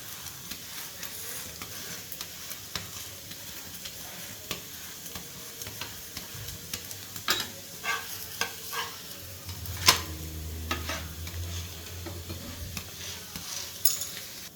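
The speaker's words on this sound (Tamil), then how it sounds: "இந்த நல்லா திருப்பி திருப்பி அழுத்தி விட்டு வேக வச்சுக்கோங்க." Parotta cooking on a hot griddle, pressed and flipped repeatedly, giving a soft steady sizzle with scattered scraping taps and thuds from the spatula throughout, nearby and without talk.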